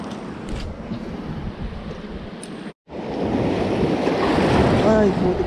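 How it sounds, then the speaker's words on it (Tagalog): Surf rolls and crashes steadily on a rocky shore, waves growing bigger, with wind buffeting the microphone and a brief cutout in the middle before the wash of waves returns louder. "Palaki na palaki yung alon."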